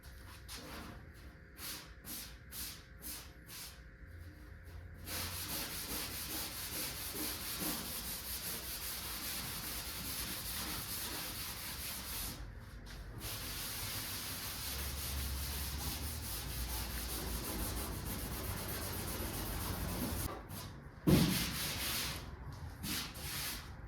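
Scuff pad rubbing across the paint of a 1978 Ford short bed conversion truck, a soft continuous scrubbing hiss in long strokes with brief pauses, fairly faint and close, with no talk.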